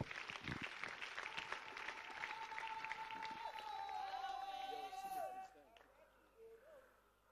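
A church congregation at an anniversary celebration for a reverend bursts into loud, sustained applause and cheering, with a tonal sound carrying over the crowd before the clapping fades out near the end.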